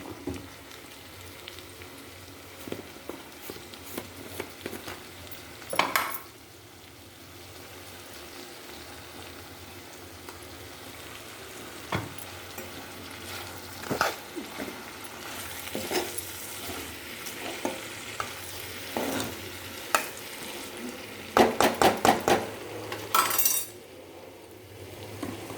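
Vegetable rice with turmeric frying in a pan, a low steady sizzle broken by repeated spoon scrapes and clinks against the pan, close and moderately quiet, with no voices.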